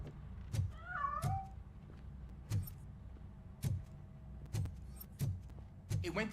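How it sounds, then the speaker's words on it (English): A cat in the game RoboCop: Rogue City gives one wavering meow near the start, while heavy metallic footsteps thud at a regular pace throughout. "That cat must be hiding inside."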